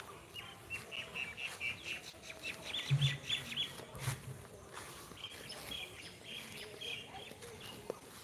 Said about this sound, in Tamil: இங்கிட்டு பாருங்க மைனாலாம் மேய்து